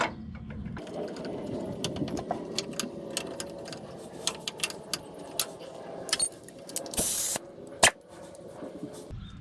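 Penetrating oil sprayed onto the shock absorber bolts of a 1995 Chevy 2500 4x4 pickup, heard as brief close hisses among clinks and rattles from the work area.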